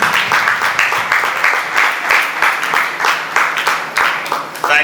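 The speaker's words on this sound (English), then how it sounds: "A round of applause for yourselves, everybody." Audience applause at the grand finale of a teaching reality TV show, a steady, dense wash of many hands clapping that runs continuously at full strength throughout.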